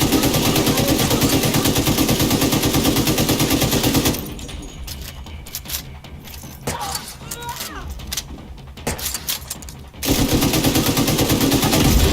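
Sustained automatic gunfire in The Division 2 video game, loud and continuous for several seconds, breaking off into scattered shots and clatter before the heavy firing resumes.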